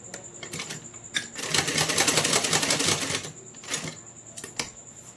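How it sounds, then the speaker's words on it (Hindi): A sewing machine clatters through a short run of stitches on a small kurta for a Laddu Gopal doll, quick rhythmic ticking that builds into a steady whir and then slows to separate clicks. "हम सिलाई लगा लेंगे।"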